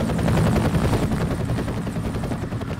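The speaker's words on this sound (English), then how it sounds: "I hear a helicopter" A helicopter's rotor chops steadily and loudly, a continuous rhythmic thumping drone that holds for the whole stretch in the video game F.E.A.R.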